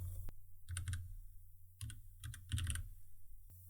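Short bursts of computer keyboard typing as a web address is entered, three or four quick clusters of close, crisp key clicks separated by pauses, with no talking.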